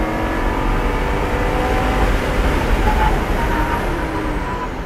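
Lamborghini LP560-4 powering out of a corner on the NOLA Motorsports Park race track, a steady, loud engine drone that builds as the throttle reopens, dense and continuous throughout with wind and road roar.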